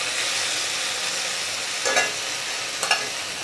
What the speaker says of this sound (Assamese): আৰু এতিয়া এয়া গৰম পানী দি দিছোঁ।